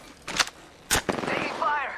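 Gunfire in a battle royale video game, two sharp close shots followed by a rapid burst, mixed with game sound effects.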